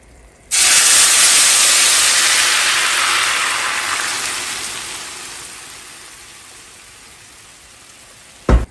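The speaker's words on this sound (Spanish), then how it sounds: "Ya tenemos hirviendo los jitomates, aquí ya sacaron su jugo" Tomatoes boiling in a pot on the stove give off a loud, steady hiss of bubbling and steam that fades slowly over several seconds, with no talk over it.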